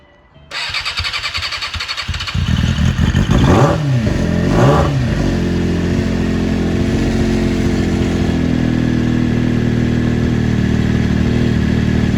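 A motorcycle freshly back from carburetor work starts up, then is ridden with loud, close revving and throttle swells before it settles into a steady, strong engine drone.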